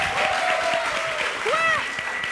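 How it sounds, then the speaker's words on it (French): Audience applause on a French TV entertainment show, a steady wash of clapping that continues throughout, with a whistle-like tone sliding over it. "On les applaudit."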